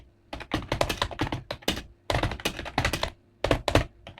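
Rapid typing on a computer keyboard during typing-test practice, with loud, close keystrokes in quick bursts separated by brief pauses and no voices.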